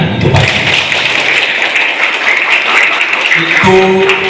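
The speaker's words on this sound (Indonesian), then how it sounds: "Boleh tepuk tangan itu Pak." Audience applause fills the room after a poetry reading at a creative-thinking session, a loud, steady wash of clapping that runs nearly throughout before tapering off near the end.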